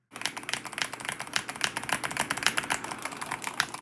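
Rapid, steady keystrokes ring out on a customizable mechanical keyboard with adjustable actuation points and Mac keycaps, a close, dense clatter of clicks that runs continuously without talk.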